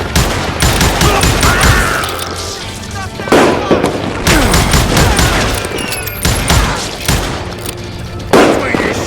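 Rapid bursts of gunfire from the Call of Juarez video game, repeated shots and volleys crackling loudly over a busy game soundscape, with a voice speaking at moments.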